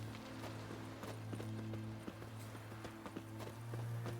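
Geralt's horse Roach in Witcher 3, hooves clip-clopping in a steady trotting rhythm, moderately close, over a low continuous background hum.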